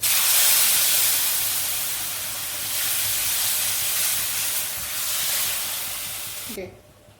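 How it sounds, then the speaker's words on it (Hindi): Blended tomato paste fries in a pan for a shashlik with Chinese rice dish, giving a steady, loud, broadband hiss and sizzle that fills the clip before cutting off sharply near the end. "टमाटो पेस्ट को 2 से 3 मिनट के लिए भून लेंगे।"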